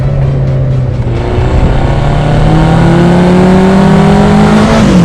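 A Lotus Esprit V8 mid-engined car drives an English B road with a loud, close, continuous engine drone. The pitch climbs gradually as the car accelerates.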